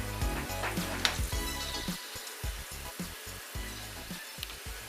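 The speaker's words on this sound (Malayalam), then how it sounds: "സൗണ്ട് കേൾക്കുന്നുണ്ട്, കടുക് പൊട്ടുന്നതിൻ്റെ സൗണ്ടൊക്കെ കേൾക്കുന്നുണ്ട്." Mustard seeds crackle and pop in hot oil in a pan while pickle is being made, with close, irregular sharp pops over a steady sizzle and faint clinks of utensils.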